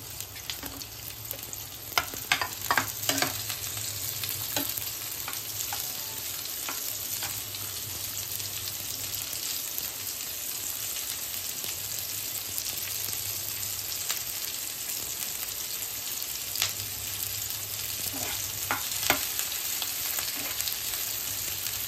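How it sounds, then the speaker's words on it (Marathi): Sliced onion fries in oil in a pan for misal with a continuous, bright sizzle at close range. Occasional stirring scrapes and taps come through, and a few clusters of spatula knocks sound early on. "पॅन ठेवलाय, तेल टाकते, कांदा टाकते. कांदा भाजून घेऊ आधी."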